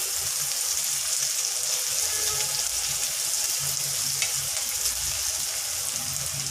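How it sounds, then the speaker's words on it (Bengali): Vegetables fry in fish oil in a wok, giving a loud, continuous, close-up sizzle and hiss with faint stirring scrapes, without speech. "ওই কড়াইয়ের মধ্যে যেন সবজিটা ভাজতে পারি"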